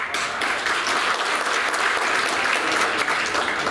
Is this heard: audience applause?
yes